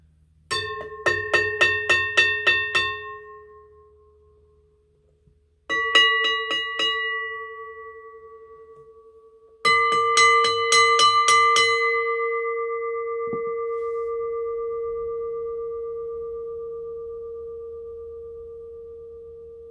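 Small WRRS Mini metal bells are struck in quick runs of taps, then single hits that ring out with long, clear, slowly fading tones.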